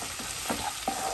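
Ginger garlic paste frying with green chillies and curry leaves makes a steady close sizzle, broken by a few soft scraping stirs, with no one talking.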